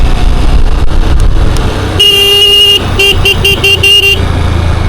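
A vehicle passes on a foggy hill road near Machal village with a loud engine rumble, sounding one long horn blast followed by a quick series of short toots.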